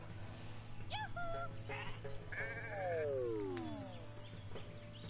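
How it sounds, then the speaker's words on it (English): Sheep bleat several times in the video game Renowned Explorers, over a steady musical drone with chimes and sliding synth tones, moderately loud and close. "Cheer the hell out of the sheep."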